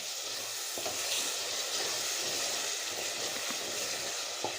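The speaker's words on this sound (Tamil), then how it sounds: "இப்போ நம்ம தயிர் ஊற்றிக்கலாம்" Curd poured into hot oil for masala chicken biryani sizzles and hisses loudly and steadily, a dense frying crackle with occasional stirring clicks, and no talk.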